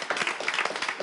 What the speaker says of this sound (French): On applaudit pour notre ami